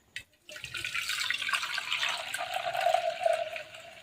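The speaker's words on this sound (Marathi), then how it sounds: "तर आता आपण हे वरचं पाणी काढून घेऊ तर मी इकडे पातेलं घेतलेले आहे त्याच्यात आपण हे वरचं पाणी काढून घेऊ" Water from soaked moth beans is poured off into a pot, a close, steady splashing stream that starts abruptly after a brief knock and runs without talk.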